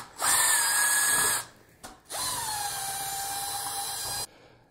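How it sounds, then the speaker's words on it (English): Cordless power drill driving out two screws that hold an existing light switch to an electrical junction box, two loud steady whirring bursts close up with a short pause between, no talk. "Now we're just going to remove these two screws that hold the existing light switch onto the junction box."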